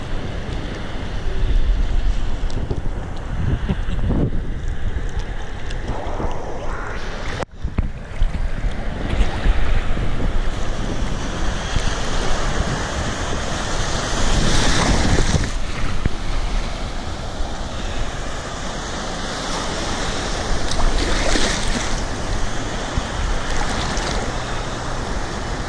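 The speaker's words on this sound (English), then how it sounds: "Here come some waves." Ocean surf rolling onto New Smyrna Beach, Florida, a steady broad wash of breaking waves with wind buffeting the microphone, surging louder in several swells over about 25 seconds with no talking.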